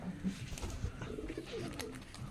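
Pigeons at a pigeon farm cooing softly, low rolling calls repeating over a quiet background, fairly close.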